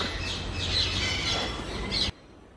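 A marabou stork gives harsh, rasping squawks in quick succession, close and loud, before cutting off abruptly into near silence.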